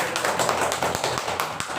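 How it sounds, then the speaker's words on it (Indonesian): A quick run of sharp claps, several hands clapping irregularly over a couple of seconds, fairly close. "Tepuk tangan dulu."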